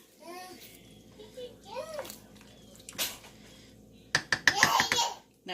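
A young child chatters and giggles nearby, with bursts of louder laughter and squeals toward the end.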